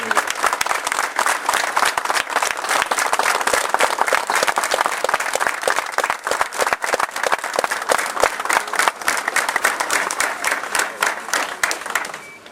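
A crowd at a commemorative neighborhood ceremony claps loudly and continuously for well over ten seconds, a dense, close, unbroken applause that fades only at the very end.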